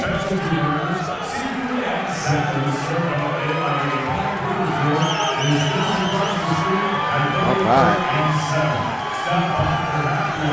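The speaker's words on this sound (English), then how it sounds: "The crowd is going crazy" A large crowd cheers and roars throughout at a fight night at Madison Square Garden, with whoops and shouts rising steadily; a voice talks over the din.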